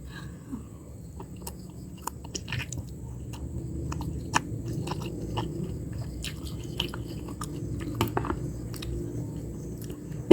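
Close-up chewing and biting of instant noodles, soft squishy bites broken by sharper crunches at irregular intervals, with no talking.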